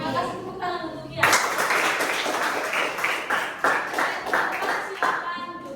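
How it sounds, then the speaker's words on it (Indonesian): Classroom of students applauding for a classmate, brisk rhythmic clapping in pulsing waves after a brief stretch of speech, close and steady until the end. "Terima kasih tepuk tangan untuk Kian."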